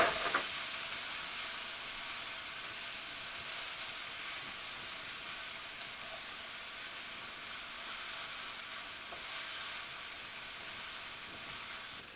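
Onions and garlic sizzle in a pan for chicken Lyonnaise, a steady, even hiss of frying that continues unbroken from start to finish at close range.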